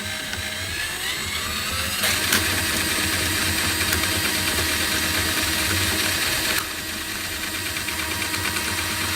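A Ryobi P4002 hybrid drain auger runs with a steady motorized whine and rattling mechanical drone, loud and close, with a couple of brief clicks or knocks along the way and no talking.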